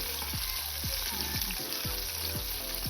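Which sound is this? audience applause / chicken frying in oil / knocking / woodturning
chicken frying in oil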